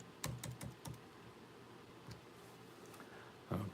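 Someone types a zip code on a computer keyboard, producing a handful of sharp, close key clicks in short bursts with gaps between them, ending in a final cluster of taps in a quiet room.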